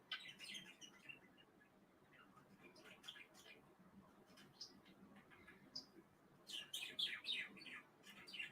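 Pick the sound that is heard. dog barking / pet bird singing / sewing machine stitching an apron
pet bird singing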